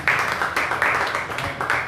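Short burst of applause from a church congregation during a Spanish-language sermon, a dense patter of clapping rising and falling in a few waves for under two seconds.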